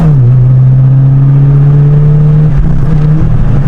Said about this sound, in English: why it's just like suddenly dipping the revs